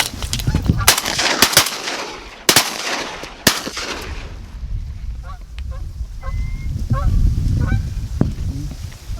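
Shotgun blasts ring out at geese during an early-season goose hunt in Minnesota: several sharp, loud shots in quick succession, followed by geese honking and calling close by.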